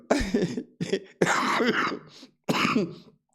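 A person coughs in several harsh bursts separated by short pauses, close and fairly loud, with throaty rasps between.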